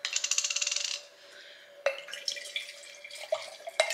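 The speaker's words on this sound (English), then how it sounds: "So weird pouring up with no ice." Drink poured into a cup with no ice, the first second a rapid run of bright splashing trickles, then quieter liquid sounds with a couple of sharp clinks from the cup.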